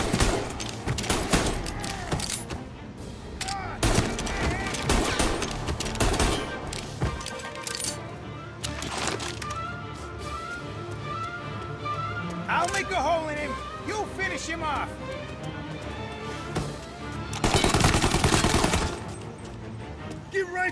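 Gunfire in Mafia: Definitive Edition, with bursts of rapid shots and heavy single cracks recurring across the scene, mixed with in-game voices talking and shouting.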